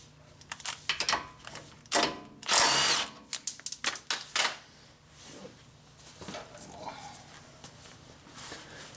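A power tool spins a 17mm nut off the drive axle of a Honda V6 Accord during a CV axle replacement, giving a loud, close whirring burst of a second or so among scattered clanks and handling noises.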